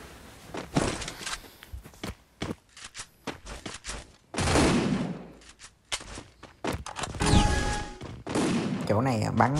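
Gunfire in the mobile shooter Free Fire, bursts of rapid shots and single cracks scattered among footsteps and thumps, loud and close, with someone talking in between.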